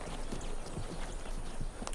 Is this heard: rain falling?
no